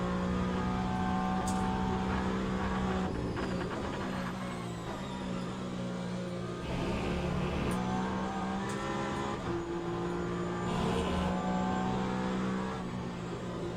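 Peugeot Le Mans hypercar in a racing video game, its engine droning steadily at high revs through curves, rising and dipping with gear changes, loud and continuous.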